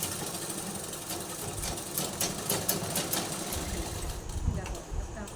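A sewing machine stitching a cotton nightie runs in a continuous, rattling drone with slight irregular surges. The machine is running poorly in damp weather, and it stays close and steady throughout.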